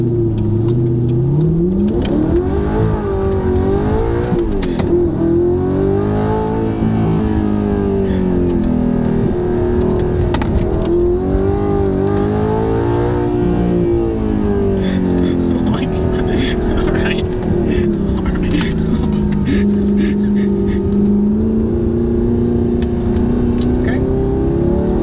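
An Audi R8 engine is driven hard to redline: a loud, close engine whose pitch repeatedly climbs and falls through the gears as the car accelerates, continuous for the whole stretch.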